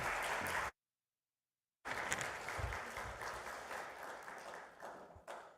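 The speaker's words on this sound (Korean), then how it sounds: "이제 목사님 나오실 때 큰 박수로 환영하도록 하겠습니다" Church congregation applause welcoming a retired pastor to the pulpit at a Sunday service, a soft wash of clapping that cuts out briefly, then resumes and continues at moderate distance.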